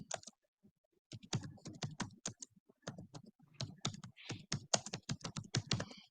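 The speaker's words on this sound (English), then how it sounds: "I'll type it in the chat first." Keys tapped on a computer keyboard in a run of quick clicks, paused briefly near the start and then typed steadily and close up, with no talking.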